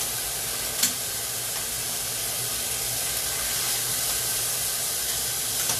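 Chicken pieces sizzle and brown in a frying pan with a steady, hissing fry throughout, one brief clack of the pan or utensil early on, and no talking.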